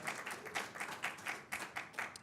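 Audience applause during a church session, a brief burst of scattered clapping with rhythmic peaks, moderately faint and somewhat distant.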